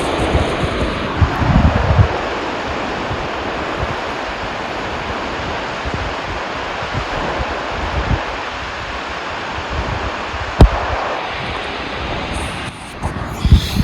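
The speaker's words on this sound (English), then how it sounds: "It's a little windy this afternoon" Steady wind blowing beside a river in Oregon, a broad continuous rushing roar close to the microphone that holds nearly constant throughout, with a brief dip near the end.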